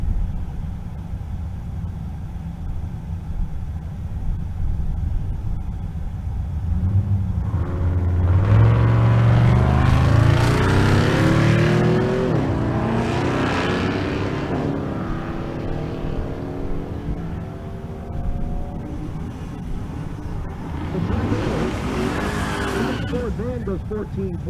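A Ford Econoline van and a Corvette C5 run a quarter-mile drag race at a race-week event, engines rising to a loud roar, then fading and surging again, with an announcer talking over them.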